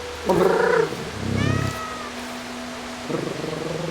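A cat in the video game Stray gives a few purring, trilling rumbles in short bursts, close and moderately loud, with no voices over them.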